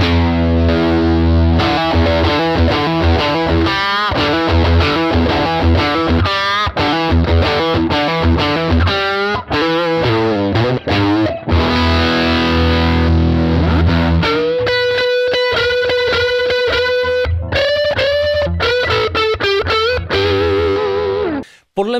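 Gibson SG electric guitar played with heavy distortion through a Fender Tonemaster Princeton Reverb amp, sustained chords then single-note lines, loud and continuous with no talk.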